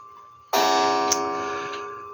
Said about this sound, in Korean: 옛날 벽시계에 지금 소리가 나고 있습니다.